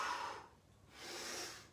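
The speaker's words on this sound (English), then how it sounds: "Exhale down, inhale back." A fitness instructor's breathing during a live home workout of elbow-to-knee crunches: two broad, breathy exhales and inhales, close and fairly soft, with a brief lull between them and no talking.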